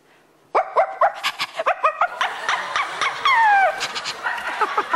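A performer vocally imitates a happy, excited dog on a talent show audition stage, producing a rapid run of loud yips, barks and snickering pants, close and alone, with one drawn-out whining note midway.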